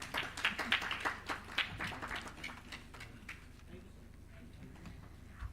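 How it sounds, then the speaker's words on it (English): Scattered applause from a small audience at a wellness awareness summit session, a few seconds of uneven claps that thin out quickly into quiet room noise. "ladies and gentlemen, let's have a huge round of applause"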